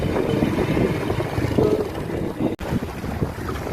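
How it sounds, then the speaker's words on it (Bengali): Strong coastal wind roars and buffets the microphone over the sea beside the shore at Musapur during a motorbike ride, a loud continuous rush with a brief dropout near the end. "বাতাসের সমুদ্রের আওয়াজ ছিল অত্যন্ত মনোমুগ্ধকর"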